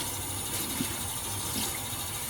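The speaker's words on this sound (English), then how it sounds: "Now, I like to rinse in kind of like a medium cold water." Water running and splashing steadily in a sink while a qiviut garment is rinsed in medium-cold water, a continuous gushing wash with faint sloshing bumps, no talk.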